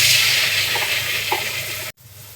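Chopped onions sizzle loudly in hot oil in a wok, a steady bright frying hiss close by that cuts off abruptly near the end before resuming more faintly.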